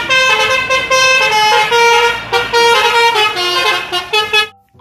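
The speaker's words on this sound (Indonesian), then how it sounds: "Lihat, ada mobil bus telolet," A toy bus telolet horn plays a loud, bright, multi-tone melody that bounces up and down for several seconds before cutting off suddenly.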